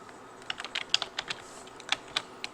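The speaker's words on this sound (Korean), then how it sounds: "엔터 칠게요" Computer keyboard keys are tapped in a short, uneven burst of crisp clicks ending with a press of the Enter key, close and clear in a quiet room with no voices.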